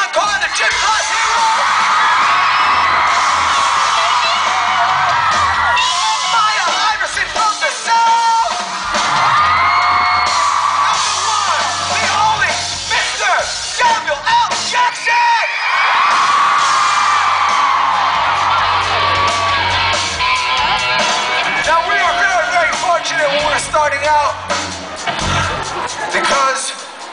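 Loud concert crowd screaming, whooping and cheering continuously at a show, a dense roar of many voices filling the venue with little letup.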